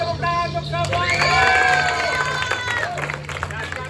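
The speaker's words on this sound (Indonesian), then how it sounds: "tepuk tangan untuk semuanya" At a church youth fellowship event, a group of young people claps and cheers together, with excited shouting voices riding over a dense, fairly loud burst of applause that tapers slightly toward the end.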